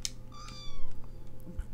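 A cat meows in a Halloween video game, one clear rising-and-falling meow near the start of a quiet stretch, followed by softer clicks and a faint low hum.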